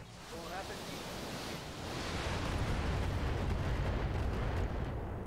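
Missiles fire in a Battletech mech video game: a dense, roaring broadband rush of launches and impacts that swells about halfway through and stays loud and sustained to the end.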